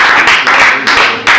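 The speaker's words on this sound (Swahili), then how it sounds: "Upige makofi, inakuhusu." Audience clapping at a Swahili-language talk on modern child-rearing, in bursts of dense applause that swell and fade across the short stretch, fairly close and loud.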